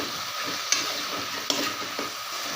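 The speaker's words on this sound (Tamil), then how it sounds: "இப்போ இது நல்லா வதங்கட்டும்" Steady sizzle of vegetables sautéing in a hot pan for white kurma, with a few sharp clinks of a utensil stirring against the metal.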